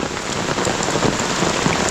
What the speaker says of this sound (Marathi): पाऊस काय थांबणार नाही आता तो सरीवरचा पाऊस आहे